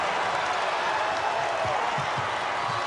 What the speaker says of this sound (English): Crowd roaring for Kent State.